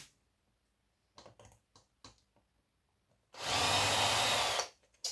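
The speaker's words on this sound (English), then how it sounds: "Right, 2 bolts to undo this." A screwdriver or small power driver undoing bolts on a circuit board during scrap recovery: a few faint clicks and taps, then one loud whirring burst of about a second and a half, with no talk.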